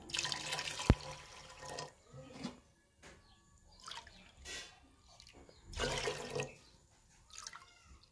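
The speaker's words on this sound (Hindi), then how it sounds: "एक कटोरी उड़द की दाल में हम छः कटोरी पानी डालेंगे" Water poured from a bowl into a pot of urad dal for cooking, in several short splashing bursts separated by pauses, close and fairly quiet.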